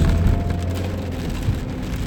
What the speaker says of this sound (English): Man, this rain is crazy. This shit went on 2 days.